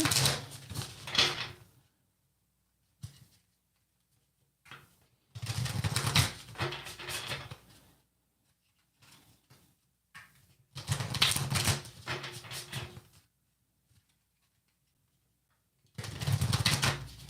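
Oracle cards are shuffled in several separate bursts, each a dense, crisp riffling flutter lasting a second or two, with near-silent pauses between them.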